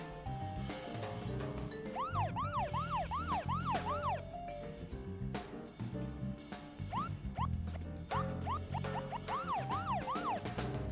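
A police car siren in the video game Deadly Premonition wails in rapid, repeated rising and falling sweeps, loud and near over a busy bed of game sound, pausing briefly before resuming.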